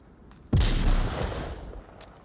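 A frag grenade blast in the Onward VR shooter: a single sudden, loud boom that rolls off into a long, fading rumble over about two seconds.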